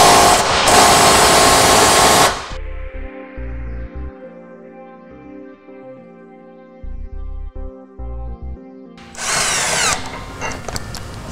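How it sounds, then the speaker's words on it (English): A power tool, likely an impact driver or ratchet, backs out the tow hook bolts on a 2012 Jeep Compass. Loud bursts of whirring open and close it, with quieter stuttering mechanical hums in between and no voices. "Then we'll go ahead and remove the tow hook with one more bolt on the outside"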